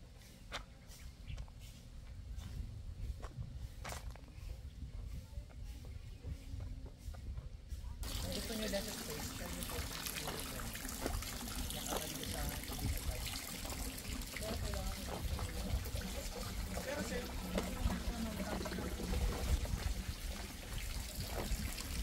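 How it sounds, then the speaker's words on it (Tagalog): Water circulating in a hydroponic setup on a farm in Tagaytay City, driven by a water pump: a continuous trickling and gushing flow, quiet at first and then suddenly louder and fuller, running steadily without pause. "So ang tubig nito, ano, umiikot. May hydro pump po kami."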